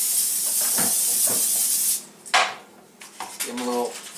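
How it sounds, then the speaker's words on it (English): Cooking spray hisses in a steady continuous burst over food in an air fryer basket, close and fairly loud, then stops, followed by a few short knocks and handling sounds from the kitchen. "then you spray them with some cooking spray"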